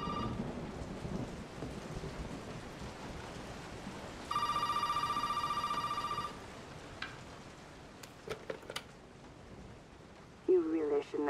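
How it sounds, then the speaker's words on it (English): Telephone ringing in Resident Evil 7, a single two-second electronic ring standing out clearly over a steady bed of rain and rumbling thunder, followed by a few brief clicks and a short voice near the end. "I guess we should go answer the phone now."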